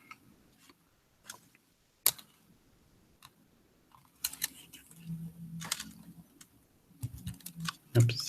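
Keystrokes tapped on a computer keyboard while entering a Linux command, irregular clicks and short bursts of quick taps, close and moderately quiet, with faint talk in the background.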